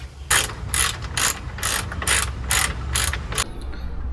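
Ratchet clicking in eight quick bursts while backing out a 10mm bolt holding the radiator fan on a 7th-generation Toyota Celica, close and crisp over a low steady rumble.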